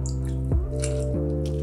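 A squishy squeeze sound effect used in a lemon product edit, one short wet burst around the middle, heard over steady tonal background music.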